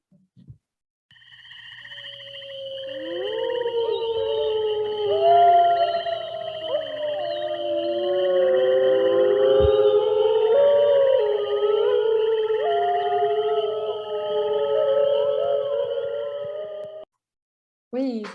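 A recording of wolves howling plays back, long overlapping wavering howls from several animals rising and falling together over a steady electronic hum, continuous for about sixteen seconds before cutting off.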